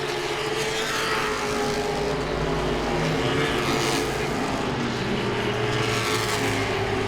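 Late model stock race cars roar around Langley Speedway during a race, a continuous loud engine din with cars swelling and fading as they pass, with no talking.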